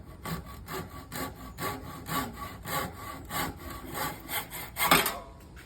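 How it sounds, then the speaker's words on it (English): Handsaw cuts through a rubber subframe bushing from a 2008-2015 Nissan Rogue, with about a dozen even back-and-forth rasping strokes, close and loud, and no talking. "And all you need is a handsaw."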